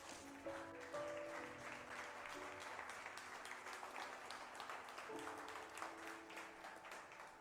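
Church congregation clapping during a sermon, a soft, continuous patter of many hands with a few faint sustained tones underneath, steady throughout without voices.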